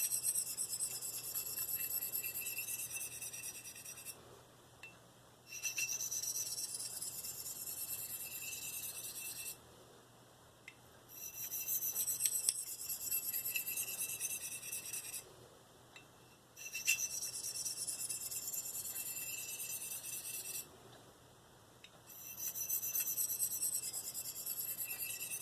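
A Marttiini Lynx knife is sharpened with very light pressure: repeated soft rasping strokes in several bursts separated by brief pauses, fairly quiet and close, with no talking.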